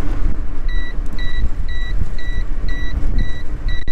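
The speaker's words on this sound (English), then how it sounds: "Torquey little Volkswagen." Small, torquey Volkswagen car engine running loud and steady while driving, with a rough low rumble, road noise and a chime beeping at a steady rhythm throughout.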